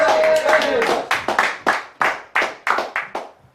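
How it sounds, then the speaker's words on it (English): Audience at a live comedy show applauds, with a burst of claps and voices at first, then a few loud, separate claps close by that fade out. "Applause"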